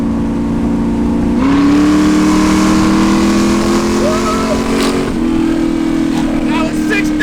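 A cammed V8 engine swapped into an old Jaguar car revs loud and close, holding a strong drone that climbs in pitch toward 6,000 rpm, with a brief break in the pull and then a high sustained whine.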